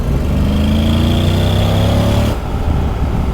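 Honda X-ADV 2024 motorcycle engine running steadily nearby, a droning hum that climbs slightly in pitch before shifting abruptly to a rougher, lower idle.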